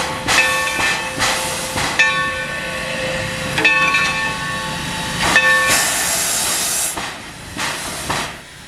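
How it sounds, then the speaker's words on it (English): Steam locomotive 3025 runs around its train on the Valley Railroad, with loud bursts of hissing steam, a steady tonal whistle-like ring, and rhythmic chuffs and rail clanks close by. "3025 must now run around its train to get back on the consist head end"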